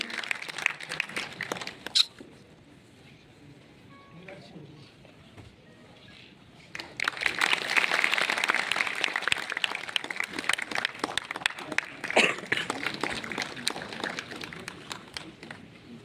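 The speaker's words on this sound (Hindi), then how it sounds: "ये तालियों की गड़गड़ाहट है, ये सभा की रौनक है" Indoor audience applause in an auditorium at a Brahma Kumaris program rises from scattered claps into a sustained, dense round of clapping, with a brief lull between bursts.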